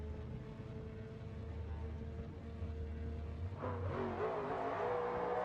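A BMW drift car idles and builds revs at the start gate during a drift qualifying round in Pascani, a steady engine drone that swells louder partway through, heard at a distance.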